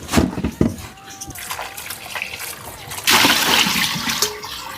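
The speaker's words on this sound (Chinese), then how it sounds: "這樣清洗就很乾淨啊，順時針這樣清洗" Fish slices being washed by hand in water with salt, giving wet sloshing and splashing with rubbing sounds, louder in a burst after a quieter start, mostly alone without clear talk.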